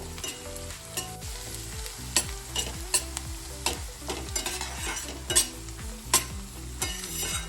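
Onion frying in a pan for spicy Maharashtrian zunka, a close continuous sizzle broken by repeated scraping stirs and clattering spoon knocks at an uneven rhythm, no talking.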